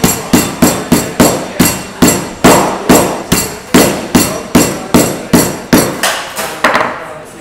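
A heavy homemade hammer pounds ice in a bag repeatedly in a steady rhythm, about a dozen sharp, loud blows close by, each with a crunching thud.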